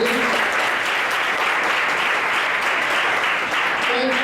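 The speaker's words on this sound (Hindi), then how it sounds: "ताली बजाएं प्रभु के लिए" A church congregation applauds during a sermon: dense, steady clapping from many hands that holds at full strength for the whole stretch, with a faint voice underneath.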